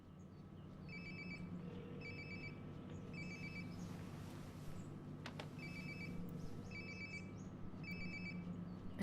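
A phone rings in the video game Life is Strange: Before the Storm, with repeated short electronic trill bursts in a steady pattern, somewhat distant and muffled over low ambient room hum.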